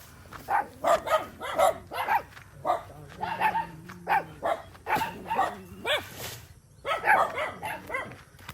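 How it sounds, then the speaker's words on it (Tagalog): Several dogs bark repeatedly in quick, uneven bursts, some yips mixed in, fairly close and steady throughout, at a home on a mountainside in the Philippines. "ay may mga aso"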